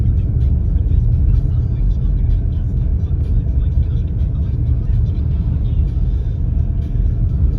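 A car drives along a village road, a steady close engine rumble and tyre roar holding constant throughout, with no voices heard.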